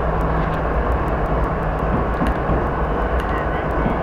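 Locomotive dynamic braking in the Train Simulator 2014 game on the Stevens Pass route: a continuous dense drone with faint regular ticking over it, steady and loud throughout.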